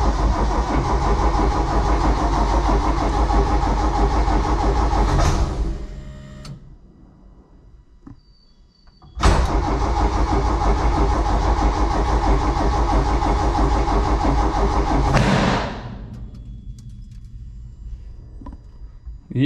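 Suzuki engine running loudly and steadily, then cut off into near silence, then restarted with a sudden burst and running loud again before stopping, heard close in a workshop.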